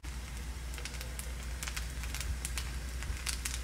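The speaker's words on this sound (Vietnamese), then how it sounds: "các bạn nghe tiếng kêu là lách cách không? Đó là cái tiếng kêu của cơm cháy đó các bạn." A crispy rice crust sizzles in an oiled clay pot over high heat, giving a faint, continuous patter of small crackles and pops, quiet and close with no speech.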